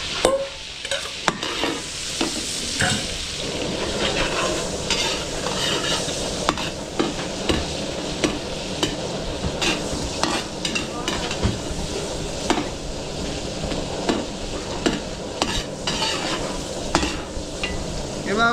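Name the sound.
garlic frying in butter and Star margarine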